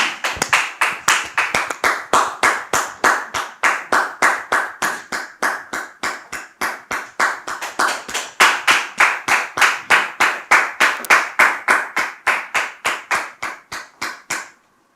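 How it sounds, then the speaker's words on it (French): A crowd claps in unison at a family event, delivering sharp, evenly spaced claps in a fast steady rhythm. The loud claps carry on for about fourteen seconds, then stop. No talking. "Sous vos applaudissements, s'il vous plaît."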